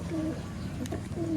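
Pigeons or doves coo softly a few times at close range, low rounded calls with quiet background noise and no speech.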